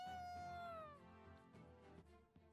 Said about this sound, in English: Where did that cat come from?